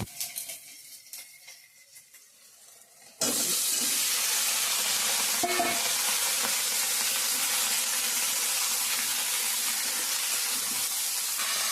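Chopped vegetables hit a hot pan with dry red chilli, bay leaf, whole cumin and ginger, bursting into a loud, steady hissing sizzle after a quiet start, with no talking.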